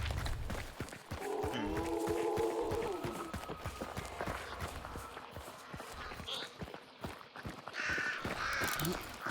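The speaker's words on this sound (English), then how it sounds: "we're hearing crows, or I'm hearing crows from that walkway." Crows caw repeatedly at mid distance in a Hunt: Showdown match, their rough calls rising over a dark ambient bed with faint footstep-like thuds.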